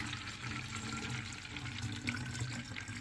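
Water spraying onto houseplant leaves and pouring onto the roots of an anthurium (peace lily) in damp soil, a steady close hiss and trickle of liquid running throughout.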